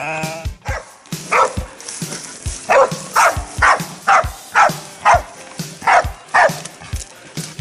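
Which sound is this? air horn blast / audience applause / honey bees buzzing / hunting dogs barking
hunting dogs barking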